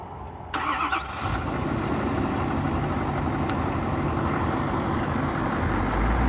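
A 2017 Ford F-350 Lariat pickup cranks briefly and then catches, settling into a loud, steady, low idle rumble close by that runs to the end, with no talk.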